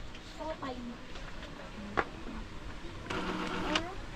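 An Epson ink-tank printer runs a print-head cleaning cycle, faint mechanical whirring with a sharp click and a louder motor buzz near the end, while a person talks over it.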